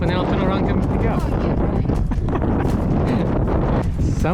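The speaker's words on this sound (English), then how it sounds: "It's very windy now, as you can see the white caps on the waves." Strong wind buffets the microphone aboard a sailboat on whitecapped open water, a loud, constant roar with gusty surges and rumbling low thumps that never let up.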